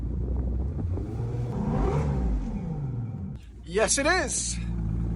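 A Parsun F115 outboard engine on a Warrior 175 boat runs with a steady low rumble throughout, joined near the end by a brief higher whine, while a person speaks over it.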